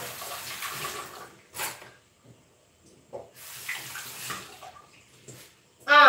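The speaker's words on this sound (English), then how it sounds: "I have to wash my hands first." Water runs from a tap as hands are washed for cooking, coming in a few uneven bursts of splashing with short quiet gaps between them and a sharp louder gush at the end.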